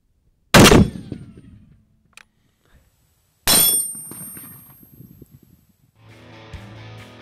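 A .50 caliber API-T round fires at a 2-inch AR500 steel plate, two loud booming reports a few seconds apart, each with a sharp metallic ring and long decaying rumble, followed by faint outdoor rustling.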